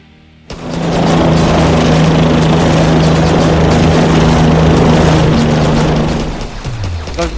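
In the Yet Another Zombie Survivors video game, a helicopter starts suddenly and holds a loud, steady rotor-and-engine drone that fades slightly near the end.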